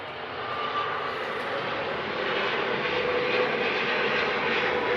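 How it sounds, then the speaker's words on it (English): A fixed-wing airplane passes overhead near old commuter train yards outside Chicago, a steady broad roar that swells slightly as it nears and holds loud for the whole stretch, with no voices over it. "A plane."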